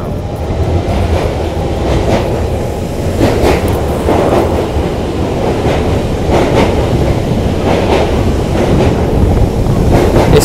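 A London Underground 1992 stock train rumbles close by on the Central line, steady heavy rolling noise with rhythmic clicks of wheels over track joints and a faint metallic squeal.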